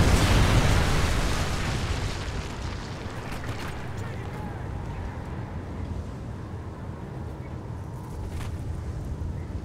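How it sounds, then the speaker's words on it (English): A Predator missile strike explodes in Call of Duty MW3, a loud rumbling blast at the start that fades into a long, dense roar of debris and noise. "Friendly Predator missile inbound."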